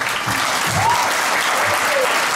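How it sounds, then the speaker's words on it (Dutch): Audience applause breaks out in a hall at a ring fight, a short burst of dense clapping from a crowd, fairly loud and steady throughout. "dat verdient natuurlijk een enorm applaus"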